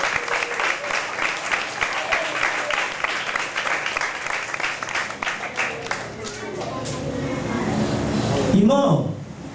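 A church congregation clapping together in quick rhythmic applause, loud and close, fading into scattered claps as a voice speaks near the end.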